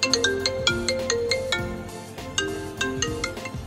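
A ringtone from an iPhone 12 Pro Max plays clearly as a repeating rhythmic pattern of bright plucked and chiming notes over a soft pulsing beat, with no voices.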